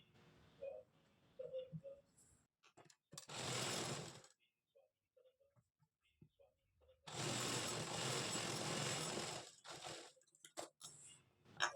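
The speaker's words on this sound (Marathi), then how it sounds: "त्यानंतर यावर दाबटीप मारून घ्यायची." Sewing machine topstitching a long puff sleeve, running in two loud steady bursts of a couple of seconds each, close up, with quiet handling noises in between.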